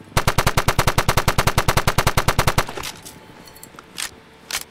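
M1 Thompson submachine gun in a video game, one long rapid automatic burst of about twenty-five evenly spaced loud shots, then mechanical clicks and a couple of distant impacts.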